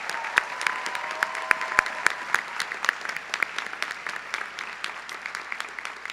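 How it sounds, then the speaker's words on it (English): Applause from a graduation ceremony audience, a steady patter of many hands with sharp individual claps standing out, moderately loud and continuing for several seconds; a faint sustained tone sits underneath. "Please join me in a heartfelt round of applause for them"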